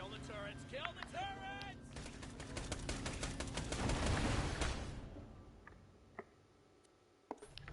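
Rapid gunfire aimed at turrets in the Borderlands video game, a fast rattling stream of shots peaking midway under game voices, then fading to a few isolated bangs.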